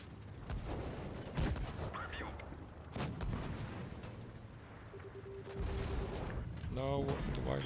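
Gunfire and booming shots from a mobile video game, with broadband bursts repeating under ongoing game noise and music, fairly loud throughout.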